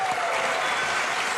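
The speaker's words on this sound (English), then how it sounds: "round of applause for real to the PAX techs making it happen" An audience at a PAX East convention panel applauds steadily, a dense wash of clapping hands throughout.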